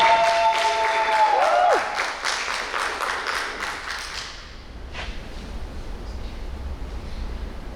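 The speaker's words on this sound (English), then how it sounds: "So ladies and gentlemen, please, let's give a round of applause." Dense audience applause for a stage performance starring Arcelia Jaramillo and Toni Valle, loud and steady for about four seconds with a brief falling tone early on, then quickly thinning out to near silence.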